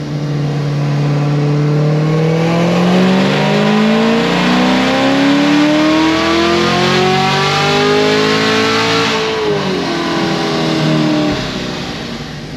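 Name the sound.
Chevrolet Camaro ZL1 engine revving during full pull on pump gas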